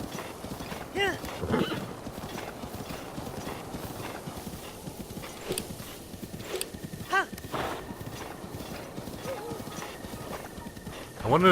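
Hooves clip-clop in a quick, rhythmic beat throughout as a horse gallops in The Legend of Zelda: Breath of the Wild, with an occasional horse snort, a voice speaking at times.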